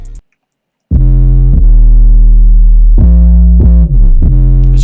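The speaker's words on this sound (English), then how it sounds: "And then I added another 808 pattern that comes in for the verse" A deep 808 bass pattern from an FL Studio beat sounds alone after a short gap, loud sustained notes gliding between pitches with slide notes.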